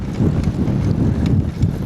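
Steady headwind buffeting the microphone while cycling toward a town with large buildings ahead, a loud, constant low rumble of gusting wind with no talk.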